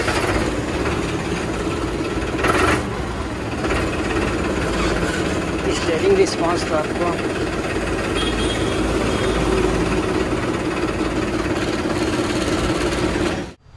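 Farmtrac Champion 45 tractor, a 45 hp 2020 model, with its engine running at a steady low idle throughout, close and continuous, while someone talks over it.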